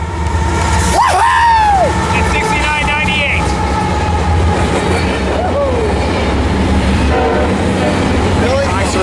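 An Amtrak or Metrolink passenger train passes at Fullerton led by cab car 6904, with short horn blasts early on over a steady rumble of rolling wagons. Excited spectators cheer and shout throughout.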